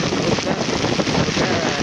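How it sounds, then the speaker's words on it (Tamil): Storm wind and rain buffet the microphone in a steady, loud roar with gusting rumble, flooded streets in Jaffna, no voices heard. "காற்று மழையுமா சேர்ந்து அடிக்குதுன்னு நினைக்கிறேன்"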